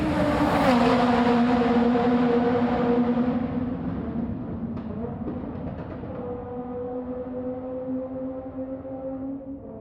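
Audi Group B rally car racing past in a tunnel, its engine roaring loud and close, then receding with a falling pitch and a fading echo.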